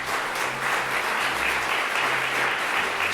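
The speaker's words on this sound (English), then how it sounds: "Round of applause for Saffron Road." Audience applause for sponsor Saffron Road at a World Refugee Day celebration of storytellers and artisans in Hartford, a steady dense clapping that holds loud and even for the whole stretch.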